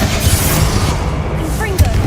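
A Bombarda spell goes off in Hogwarts Legacy, a single booming blast near the end that stands out against steady low rumble and background game noise.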